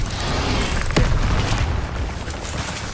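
A fiery Incendio spell cast in the video game Hogwarts Legacy, heard as a loud, sustained whooshing roar with a burst near the middle, dense and close throughout without any voices.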